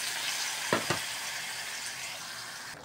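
Pork for adobo sizzling and frying in a pan, a steady hiss of hot oil with a couple of distinct scraping stirs of the utensil, close and alone without voices.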